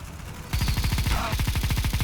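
A Negev machine gun fires in Counter-Strike: Global Offensive, a fast, steady stream of loud, punchy shots in one sustained burst that begins about half a second in, close and dominant.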